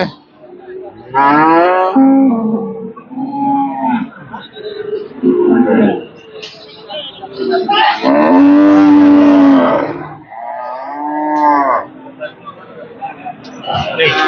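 A pregnant dairy cow, two and a half months in calf and giving 20 kg of milk, moos loudly several times in long drawn calls, with people talking nearby between and over the moos.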